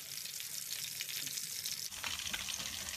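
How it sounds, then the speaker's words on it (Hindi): Gola kabab fries in a pan over a medium flame, giving a continuous close sizzle with a bright crackling hiss that shifts slightly midway. "तो हम इसे भी फ्राई कर लेंगे मीडियम फ्लेम पे"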